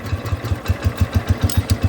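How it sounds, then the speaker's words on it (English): A Cub Cadet 105 lawn tractor engine runs at low throttle with a steady, rapid, even thumping pulse, loud and close, with no talking. "We're going to turn the tractor on, and we're going to turn the blades on."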